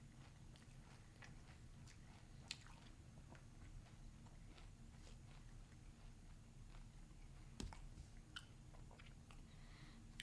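Malt O Meal Raisin Bran cereal is chewed close up: quiet, irregular crunches and soft bites recur over a low background hum, with a few sharper crunches standing out.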